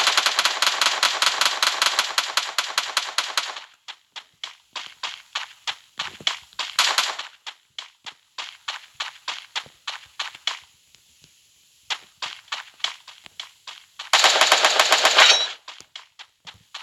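Rapid automatic gunfire from the video game Free Fire comes in long bursts with short single shots and pauses between, loud and close, with quieter footstep-like taps in the gaps.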